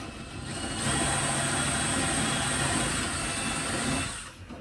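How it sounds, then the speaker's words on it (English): A power drill with an 8mm bit whines steadily for a few seconds boring into wood, spinning up, grinding on, then winding down, close and fairly loud. "So I don't have a countersink, so I'm just using a 8mm drill bit"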